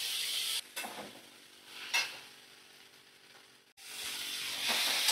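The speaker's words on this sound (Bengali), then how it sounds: "তো ভালো করে আমি মশলাটা কষিয়ে নিচ্ছি।" Spice paste with hot chilli powder frying in a pan, stirred in bursts: loud sizzling hiss that drops away during a quieter stretch, sharp scrape accents, then swells again near the end.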